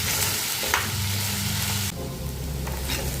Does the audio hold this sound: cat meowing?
no